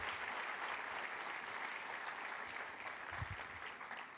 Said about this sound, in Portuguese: vamos dar um aplauso ao seu Jesus.